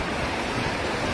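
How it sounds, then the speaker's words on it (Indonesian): Strong wind with heavy rain during a storm that damaged wedding tents in Maros, a dense, steady broadband roar with no breaks that sounds close and loud throughout. "Kuatnya angin disertai hujan deras membuat sebagian tenda rusak."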